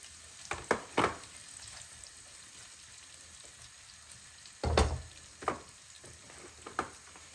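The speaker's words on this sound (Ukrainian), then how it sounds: "відправляємося до плити обсмажувати нашу цибульку" Onions sizzle in oil in a pan with a soft steady crackle, broken by a few sharp scraping stirs and clatters, no voices.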